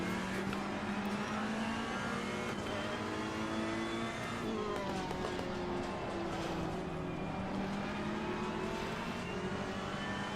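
A Ferrari 488 GT3 Evo races at Zandvoort in the racing game Assetto Corsa Competizione. The engine drones loud and continuous, with its revs climbing and dropping through gear changes and no talk.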